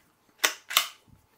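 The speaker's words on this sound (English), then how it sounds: "Removing magazine." A CZ 457 .22LR rifle has its magazine removed, producing two sharp, close metallic clicks about a third of a second apart, followed by a faint softer handling rattle, with no talk over it.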